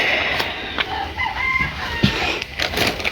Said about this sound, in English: Chickens are driving me crazy.